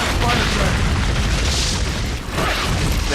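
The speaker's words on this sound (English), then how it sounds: "this spider tank has the fastest cannon I've ever seen in a game" Spider tank cannon in the 2008 Turok video game, a dense series of heavy booming blasts that overlap into a continuous roar, loud and close, with a slight dip near the end.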